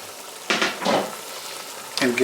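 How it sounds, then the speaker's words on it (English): Steamed mussels with fresh parsley in a wine sauce are stirred in a pot, giving two short close bursts of scraping and bubbling sizzle followed by a third, fairly quiet. "And give it a nice stir."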